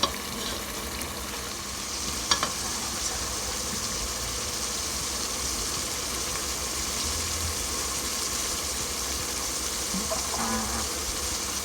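Ground beef and pork chorizo sizzling in a pan on a stovetop for chili, a steady, close, dense frying hiss with a couple of faint clinks, no talking.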